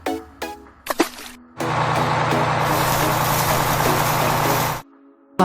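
A toy dump truck sound effect: short clicks and toy noises, then a loud, steady engine rumble with broadband noise lasting about three seconds before cutting off. No steady reversing-beep pattern stands out.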